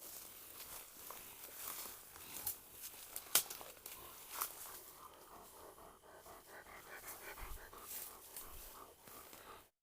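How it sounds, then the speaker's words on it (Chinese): Dogs sniffing and panting in a forest at night, quick snuffling breaths and soft rustling close by, with occasional sharp crackles and footsteps, fairly faint overall. "你看，狗狗们一会儿从右边闻味道，一会儿从左边闻味道。"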